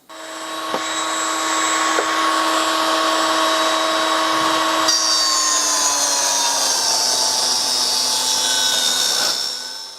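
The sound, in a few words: power saw cutting wooden strips for window frames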